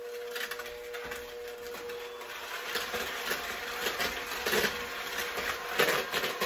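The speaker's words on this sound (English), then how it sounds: "I've got the whisk attachments to it, and I'm just going to whisk this up until it is nice and light and fluffy, just on kind of medium speed" An electric mixer with whisk attachments whirs steadily on medium speed through zucchini muffin batter, a close continuous motor drone with a faint rattle and no talk.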